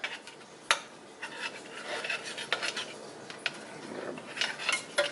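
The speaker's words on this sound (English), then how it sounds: "Make sure you keep stirring it." A spoon stirring and scraping a melted peanut butter granola mixture in a pot, with soft continuous rubbing and occasional sharper clinks against the metal, close and fairly quiet.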